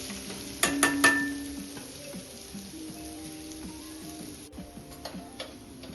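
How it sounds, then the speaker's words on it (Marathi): Cumin seeds and crushed ginger sauté in oil for a spicy stuffed-chilli tempering, a light sizzle with a few clinks of a spoon against the pan near the start and small ticking pops throughout. "अद्रक आणि जिरा छान असा तेलामध्ये परतून घ्यायचा"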